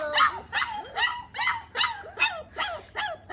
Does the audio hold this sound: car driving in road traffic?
no